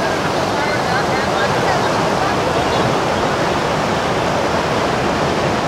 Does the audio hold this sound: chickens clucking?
no